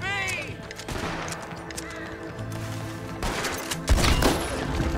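Gunfire in Red Dead Redemption 2: a few sharp shots cut through busy game sound and voices, with one heavy close blast near the end.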